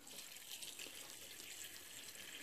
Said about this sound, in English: We're going to pour the brine in here.